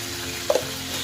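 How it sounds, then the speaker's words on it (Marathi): Cut brinjal pieces fry in hot oil in a village-style kitchen, giving a soft, steady sizzle with a brief louder splutter near the middle and no one talking. "तेल गरम झालं की त्याच्यामध्ये ही वांगी टाकून घ्यायची कट केलेली"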